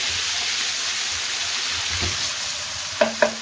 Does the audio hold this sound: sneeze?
no